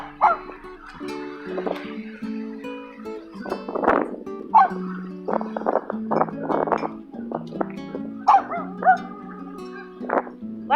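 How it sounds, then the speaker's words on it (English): Dogs bark repeatedly near a lakeside garden on a windy day, a busy run of yips and woofs at varied pitches, some close and some farther off. "Lots of dogs around here."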